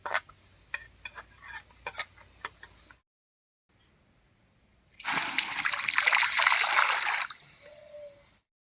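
Water splashes and pours loudly into an old black iron kadai for a couple of seconds during rinsing, after a run of sharp scraping taps and a brief hush.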